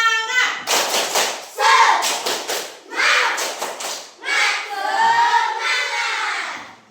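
Students in a classroom do a rhythmic group clapping chant, with bursts of claps that come together in patterned beats mixed with young voices chanting along, loud and close.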